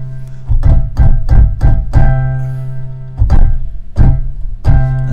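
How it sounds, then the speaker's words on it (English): Keyboard plays a rhythm mixing held chords with short, clipped staccato hits, giving clear repeated attacks with brief gaps between them. "but now we're going to drop in some staccato notes"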